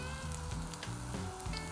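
Rava dosa sizzling steadily on a cast iron tawa, a close, continuous crackling fry with no one talking.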